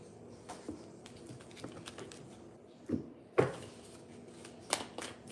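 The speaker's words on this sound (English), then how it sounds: "Camelia, I'm going to say stop when you're ready for me to stop shuffling" A deck of playing cards being shuffled, with quiet riffling and soft taps and a few sharper flicks, close and low in level, with no voices.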